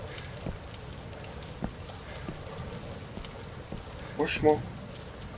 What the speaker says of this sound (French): Regardez la pluie. Il pleut tout le temps.